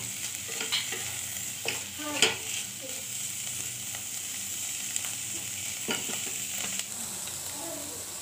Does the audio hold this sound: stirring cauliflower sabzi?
yes